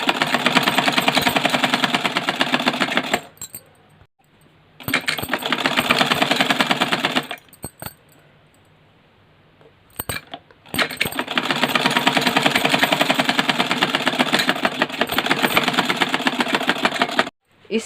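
Sewing machine stitching a petticoat runs in three long loud bursts of steady, fast mechanical whirring, separated by short pauses.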